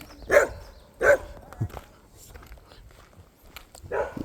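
A dog barks in a few sharp bursts on a trail at Maplewood State Park, with quieter scuffs and a soft whimper between the barks, close by outdoors.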